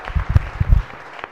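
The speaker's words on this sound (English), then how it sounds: "if we can give them 2 young men a round of applause" In a state Senate chamber, a brief, scattered round of applause sounds as a few separate hand claps and thumps, fairly close and soft.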